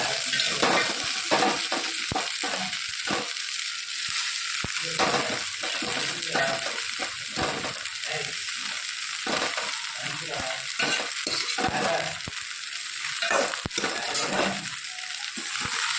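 Sabudana (sago pearls) fries in a pan with a loud, constant sizzle, while frequent scraping stirs rattle through it at close range, with no talking.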